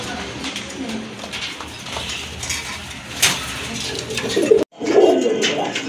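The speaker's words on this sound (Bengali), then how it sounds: "দেখেন আরেক জোড়া গড়া কবুতর" Pigeons cooing nearby amid a noisy, busy background, with a sharp knock and a brief dropout near the end.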